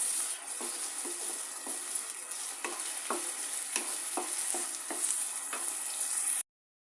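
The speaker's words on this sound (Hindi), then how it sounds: "अब मैं इसमें डालूँगी टमाटर और टमाटर को भी हल्का सा फ्राई करूँगी।" Onion and tomato fry in a pan with a bright, continuous sizzle, overlaid by a steady rhythm of spatula scrapes and stirring clicks. The sound is close and alone, then cuts off abruptly.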